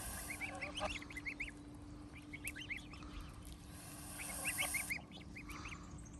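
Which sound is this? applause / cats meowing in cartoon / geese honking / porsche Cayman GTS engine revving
geese honking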